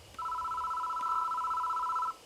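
A telephone rings in the horror game Spirit Hunter: Death Mark: one sustained electronic two-tone trill lasting about two seconds, clear and close with no talk over it.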